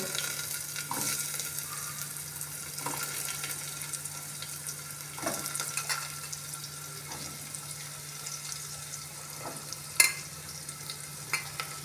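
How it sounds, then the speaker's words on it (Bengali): Cut potato, carrot and bottle gourd tumble into a hot pressure cooker pan already holding garlic, a continuous close sizzle with occasional soft clunks and stirring scrapes as pieces are added. "এই যে আলু গাজর আর লাউ কেটে রেখেছি এইগুলো সব একসাথে আমি পরপর দিয়ে দেবো"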